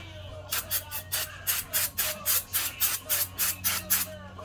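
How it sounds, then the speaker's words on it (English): Brake parts cleaner sprays in about a dozen short, regular aerosol bursts onto the rear brakes of a Subaru WRX, hissing close and loud over a low steady hum. "Hit it with some brake parts cleaner real quick."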